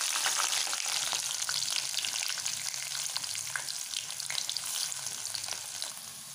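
Chopped small onions and curry leaves fry in hot oil with mustard seeds for a potato fry, giving a steady close sizzle with scattered pops and light scraping throughout, with no talking.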